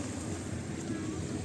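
Steady rushing wash of sea waves with wind noise, a continuous low roar without distinct breaks.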